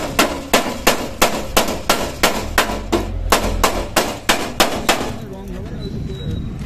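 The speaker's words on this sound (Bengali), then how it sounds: "এই যে শোটা ডেন্টিং করে আবার লাগানো হচ্ছে, দেখে নাও।" Steady metal hammer blows beating out dents in a damaged bus body panel, about a dozen sharp ringing strikes at an even rhythm, close and loud, ending with quieter workshop background.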